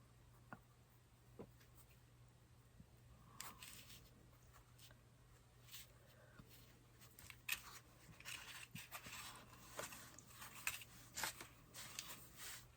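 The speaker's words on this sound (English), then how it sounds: "you cut your whiskers off to about 1 inch" Small scissors snipping the whiskers of a handmade craft mouse, close and fairly quiet, with soft cuts, rustling and light handling noises that grow busier toward the end.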